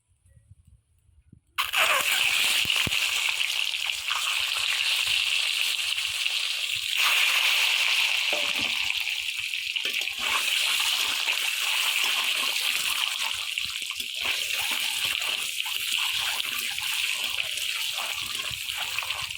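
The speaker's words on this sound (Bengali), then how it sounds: "এই তেলের মধ্যে দিয়ে দেব একটু হলুদ আর নুন ডিমটা লাল করার জন্য" Eggs frying in mustard oil with turmeric and salt give a loud, continuous hiss and sizzle that starts abruptly after a brief near-silence and holds steady throughout, with no talking.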